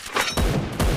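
Gunfire in the mobile game Free Fire: three loud, close bursts of shots in quick succession, each sharp and crackling, with no voices.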